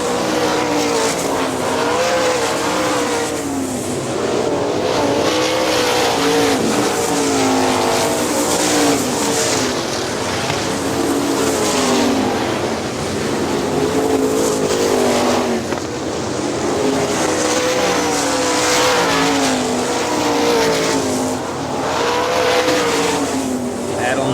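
410 sprint cars racing at Hartford Speedway Park in Michigan, a continuous loud roar of engines with surging and fading passes as cars circle the track, under an announcer's commentary.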